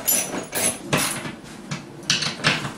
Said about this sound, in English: Tightening the bolts so that they are snug